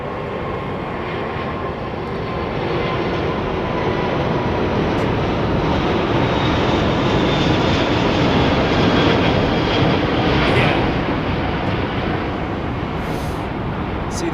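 An Airbus airliner departing Heathrow Airport, heard as a steady, loud broadband jet roar that swells slightly and holds for the whole stretch, with no other sounds standing out.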